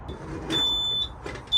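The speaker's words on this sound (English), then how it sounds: "Beeping, I think it was because the handbrake's not on." A thin, high electronic beep tone sounds steadily for about half a second, then again briefly at the end, over low vehicle rumble; an electric tractor's warning beep because the handbrake is not on.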